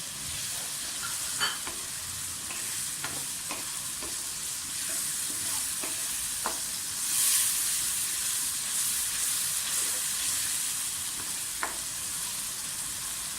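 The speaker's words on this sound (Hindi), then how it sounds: "साथ ही टमाटर का पेस्ट भी डालना।" Tomato paste fries in a pan for pea and potato pulao with a steady, close sizzle and occasional light stirring clicks throughout.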